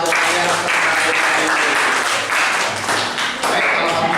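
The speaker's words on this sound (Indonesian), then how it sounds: "tepuk tangan untuk kalian" Students in a classroom applaud with steady, dense clapping that fills the room throughout, with a few louder taps and faint voices mixed in.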